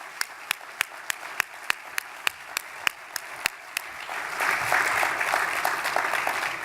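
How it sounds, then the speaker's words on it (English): Sharp, evenly spaced claps start the clip, then swell into a full round of conference audience applause that continues loudly to the end. "I think they need one last round of applause for the great job that they did"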